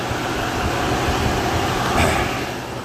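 A Ford four-wheel-drive truck's engine drones steadily throughout during integrated wheel end hub testing, a constant low mechanical roar with a slight swell near the end, no voices.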